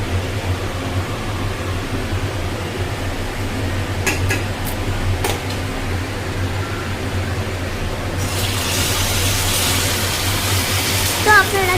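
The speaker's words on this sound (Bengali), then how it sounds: "আমার দিদা যে রিফাইন তেলের মধ্যে এগুলাকে ভেজে নিচ্ছে ভালো করে" Jali kata batter fritters deep-fry in refined oil with a steady, loud, broadband sizzling hiss that swells near the end, punctuated by a few light metallic clinks.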